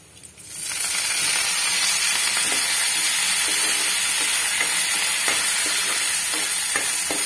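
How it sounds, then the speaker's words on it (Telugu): Tempering seeds and vadiyam drop into hot oil, starting with a quiet moment, then a sudden strong sizzle that holds steady with faint crackles and stirring scrapes, and no one talks. "నేనైతే వడిం వేసుకున్నానండి"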